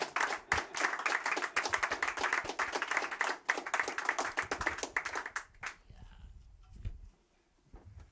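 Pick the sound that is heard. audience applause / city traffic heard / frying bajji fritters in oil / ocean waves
audience applause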